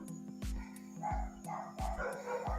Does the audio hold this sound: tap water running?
no